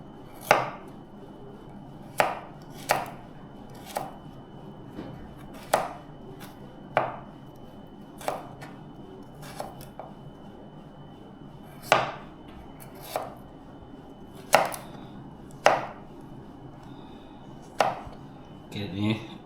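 A knife strikes a cutting board in sharp, evenly spaced chops, about one every second or so, as ingredients are cut for seafood mee goreng; close, clear and unaccompanied by talk.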